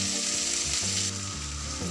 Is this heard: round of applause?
no